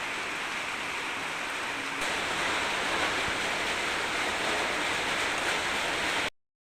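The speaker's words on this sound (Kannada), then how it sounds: "ಎಷ್ಟೊಂದು ದೊಡ್ಡ ಮಳೆ ಹೋಗ್ತದೆ ನೋಡಿ" Steady, dense roar of heavy rain, a continuous broadband wash that swells slightly partway through and then cuts off abruptly.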